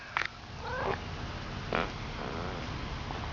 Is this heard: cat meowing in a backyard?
yes